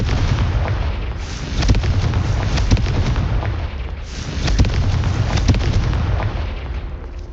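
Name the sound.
Confringo fire curse explosion, Hogwarts Legacy video game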